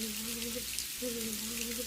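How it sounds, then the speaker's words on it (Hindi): Rain falls over a village as a faint, even hiss, joined by a low sustained hum that drops out briefly and then returns. "कुछ दिनों बाद गांव में भयंकर बारिश शुरू हो गई।"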